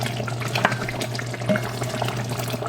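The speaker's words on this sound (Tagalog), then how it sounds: "Haluin natin kasi medyo dumidikit na yata eh." Pork asado sauce, thickened after long cooking, is stirred in a pan. It bubbles and sizzles steadily close by, with a few light scrapes of the spoon and no talking.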